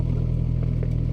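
A Suzuki GSX-S1000 motorcycle engine idles on its own, a close, steady, low pulsing throb with an even rapid beat and no voices.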